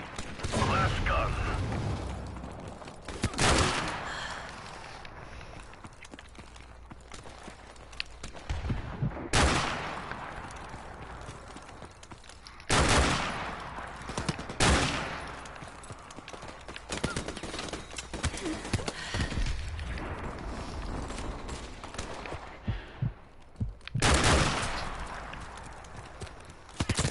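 Gunfire from a G3 rifle in Modern Warfare Remastered, sharp bursts of shots recurring every few seconds over constant game noise and clatter, with a player talking at times.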